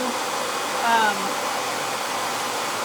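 A loud blow dryer runs continuously, a steady broad rush of air drying a freshly made design, with a brief voice over it.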